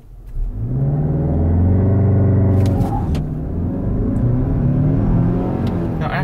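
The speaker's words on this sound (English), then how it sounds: "let's do one more 0 to 60 and 60 to 0 test here" A 2020 Mazda CX-5 Signature launches hard from a standstill in a 0 to 60 run with the AC off, its engine droning loud and close as it climbs through the gears with a brief shift dip midway.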